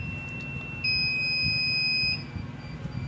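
The buzzer on a coin slot centralized board sounds a steady, piercing electronic beep lasting about a second, layered over a fainter continuous tone and a low background hum, with no talking.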